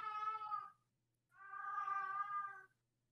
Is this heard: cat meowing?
yes